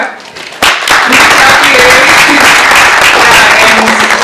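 Students at an international engineering conference clapping for themselves: a brief murmur, then a sudden loud burst of crowd applause that stays full and steady to the end.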